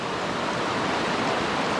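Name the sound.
stream current flowing on backcountry trail crossing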